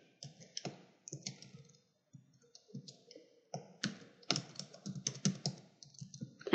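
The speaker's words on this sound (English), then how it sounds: "So I type sum, and then rows," Typing a formula on a computer keyboard in a spreadsheet, close quiet key clicks in short irregular bursts separated by brief pauses, no talking.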